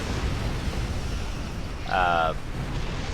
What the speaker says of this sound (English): it treats them as ships, so they explode